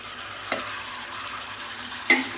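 Ginger garlic paste and tomato frying in a pan for a beetroot curry, heard as a soft continuous sizzle with two brief stirring scrapes, close up and with no talking.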